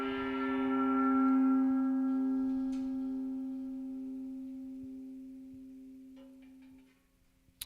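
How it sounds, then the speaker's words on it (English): A gong struck once in a spiritual service, its deep shimmering tone swelling and then slowly fading over several seconds, ringing alone until it decays, with small clicks at the end. "So we hit the gong a third and final time"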